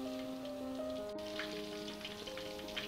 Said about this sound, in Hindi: हम इन्हें गोल्डन ब्राउन होने तक चला चला कर ही फ्राई कर लेंगे।